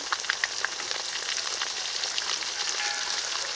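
A ground paste of cumin, garlic, ginger and dried chili sautés with fried onions, tomato, turmeric and salt for chicken dum biryani, giving a continuous crackling sizzle with dense spattering pops, close and steady.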